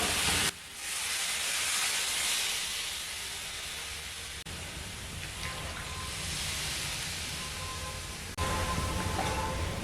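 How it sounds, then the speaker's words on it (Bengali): Water poured into a pan of frying cauliflower and pumpkin sets off a loud, broad sizzling hiss that stays strong and steady, close by and alone, with a few abrupt breaks. "এখন এর মধ্যে দিয়ে দিচ্ছি পরিমাণ মতন জল"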